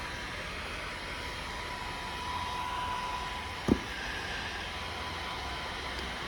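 A hair dryer blows steadily, drying paint on customized Nike Air Force 1 sneakers, an even, moderately quiet whoosh with a single sharp knock partway through.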